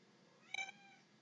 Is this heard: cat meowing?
yes